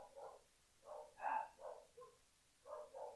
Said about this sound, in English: they're going to keep barking